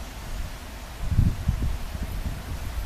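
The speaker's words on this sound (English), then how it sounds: "It's very windy." Wind buffets an outdoor microphone on a very windy day, producing low rumbling gusts that swell around the middle and keep churning beneath a constant hiss.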